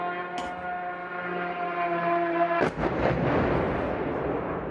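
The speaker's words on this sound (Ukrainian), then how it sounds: "Близько 20 вибухів пролунали в різних частинах міста." A sustained tonal hum is cut by a sharp blast, followed by rolling booming rumble and crackle from a distant explosion during a night strike on a Ukrainian city.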